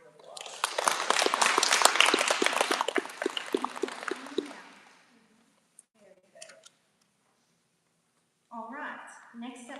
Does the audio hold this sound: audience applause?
yes